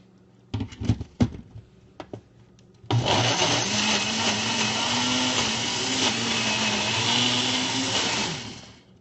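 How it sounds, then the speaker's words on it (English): A few sharp clicks and taps, then a Ninja blender roars to life making a smoothie, running steadily at high speed for several seconds before winding down. "I'm just going to pop this on my blender, and again, it's a Ninja blender."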